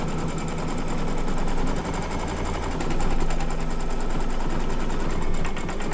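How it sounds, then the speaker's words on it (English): An embroidery sewing machine stitches zigzag stitches on an in-the-hoop flower mug rug, a steady fast mechanical whirring and clatter that runs without a break for the whole stretch at close range. "And here's our zigzag stitches to finish the job"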